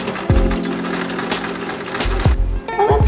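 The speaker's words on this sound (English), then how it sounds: "It seems to be sewing pretty well on this fabric." A sewing machine stitching a test patch of fabric for a homemade skirt, running with a steady mechanical whir and rattle, loud and near, with brief stops and restarts.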